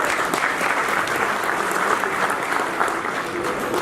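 A conference audience at the Traveldor 2019 tourism event in Tunisia breaks into steady, dense applause, many hands clapping together with a faint crowd murmur beneath.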